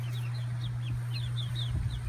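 Chickens in a backyard chicken tractor in a suburban neighbourhood give soft clucks and repeated high chirps, moderately close, over a steady low electrical hum.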